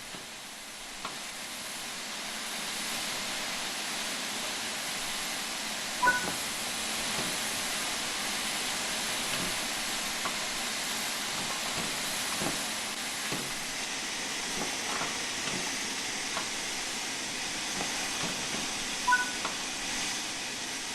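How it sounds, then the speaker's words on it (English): Cylinder cocks vent on a steam locomotive in Train Sim World 5, giving a steady, moderately quiet hiss of escaping steam with a few faint clicks and knocks in the background. "you'll need to open the cylinder cocks to remove any water."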